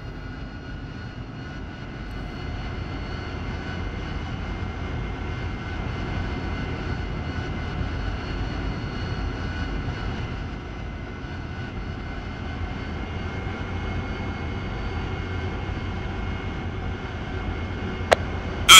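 A heavy jet aircraft taxis toward the runway at an airfield in the DCS World flight simulator, giving a steady, moderately loud engine drone that holds for the whole stretch without speech.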